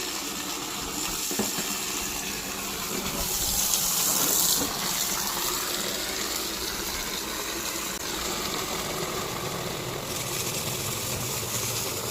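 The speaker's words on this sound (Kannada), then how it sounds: "ಇದು ಫಿಲ್ಟರ್ ಮುಳುಗುವಷ್ಟು ನೀರನ್ನು ಹಾಕೋಬೇಕು" Water pours steadily into a container to submerge a water filter, making a continuous close gushing rush that swells briefly near the middle, with no speech.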